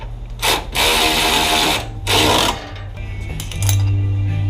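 Power tool driving nuts and bolts onto bash bars on a Nissan 240SX drift car, heard as two sustained whirring bursts with a shorter burst at the end, loud and close with no talk.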